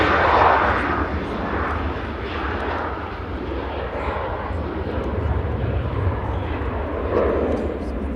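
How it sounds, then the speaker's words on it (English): A Ryanair Boeing 737-800 jet departs Manchester Airport for Malaga with a continuous loud engine roar, rumbling steadily over eight seconds, with a voice faintly audible beneath the noise. "Ryanair departing to Malaga in front of us with flight 3232 EIEVL, the evil 737-800"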